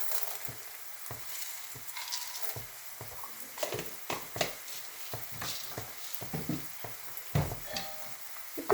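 Urad dal and chana dal roast in a hot pan with soft, steady sizzling, broken by irregular scraping stir strokes and light pattering grains, close and alone without voices.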